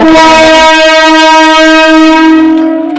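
A train at platform one of Puri station sounds a long, loud, sustained horn-like tone with rich harmonics, steady for about three seconds before tapering off, with no talk over it.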